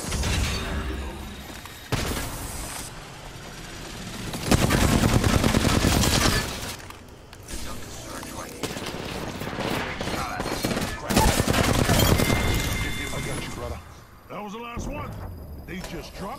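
Rapid video-game gunfire in bursts, sharp repeated shots and fusillades with short pauses between, mixed with game voices and effects.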